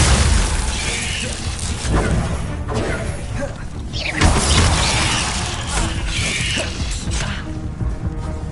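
The Glacius spell is cast in Hogwarts Legacy with a loud, dense burst of whooshes, shattering and booming impacts that rolls on under a voice.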